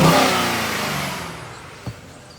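A 2020 Ford Explorer Police Interceptor with collision damage and a transmission fluid leak, its engine revving loudly and then winding down toward a quieter idle, with a brief knock near the end.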